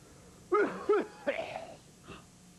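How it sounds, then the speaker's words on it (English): A few harsh, raspy coughs come in quick succession, followed by a softer wheezy one, close and otherwise quiet. "Oh, I'd know that cough anywhere."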